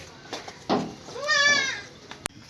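A goat, a heavy crossbred milking breed offered for sale at a Lahore market, gives one clear wavering bleat in the middle, with short bursts of nearby voices and a sharp click near the end.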